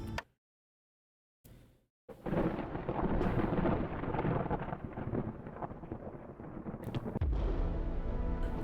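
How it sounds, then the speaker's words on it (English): Thunder from a Blight Storm in the video game Against the Storm: a short crack, a pause, then a long, loud rolling rumble with rain-like hiss that carries on steadily to the end. "And here's the Blight Storm affecting the area all around."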